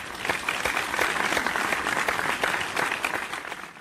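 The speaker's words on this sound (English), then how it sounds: "Give him a hand of applause again." A group applauds a student who topped an exam in a cartoon scene, with a short burst of even, moderately loud clapping and no talk over it.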